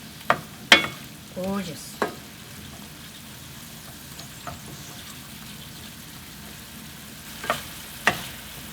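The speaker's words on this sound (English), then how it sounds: "I'm going to stir fry until all this sauce is evaporated to make it more chewy and shiny" Garlic scapes stir-fried in a reducing sauce for Korean maneuljjong-bokkeum: a soft, steady sizzle broken by a few sharp utensil scrapes and clacks against the pan, with one brief spoken word.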